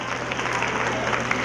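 Students and parents at a school function applaud together, a brief burst of continuous clapping at moderate volume with some voices underneath.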